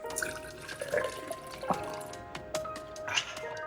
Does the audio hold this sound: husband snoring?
no